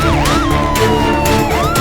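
A cartoon animal ambulance siren wails loud and close in a repeating up-and-down sweep, with a horn-like tone blaring underneath.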